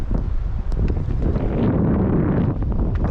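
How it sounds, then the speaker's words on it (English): Early-morning wind blows hard over a Haines Hunter fishing boat anchored at sea on the fishing grounds, a steady, loud, rumbling rush buffeting the microphone throughout, with no talking. "She is a little windy."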